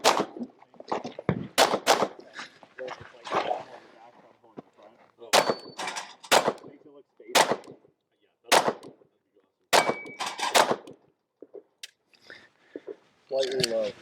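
A left-handed shooter firing a gun at targets, sharp, loud shots that crack out one at a time at irregular intervals, with people talking between them.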